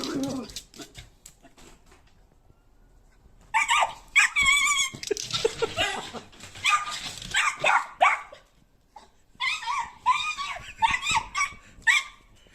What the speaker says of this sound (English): This dog saw a cat in the yard and tried to scare it away.